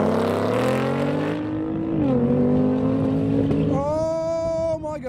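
Two cars drag racing: an 800-horsepower manual Shelby Mustang against a heavily modified all-wheel-drive Nissan GT-R, with loud, continuous engine roar rising in pitch through the gears, then a sharp shift near the end.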